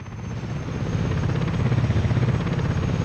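A helicopter in Workers & Resources: Soviet Republic ferries workers to their jobs, its rotor building into a loud, steady rhythmic thudding drone that runs throughout.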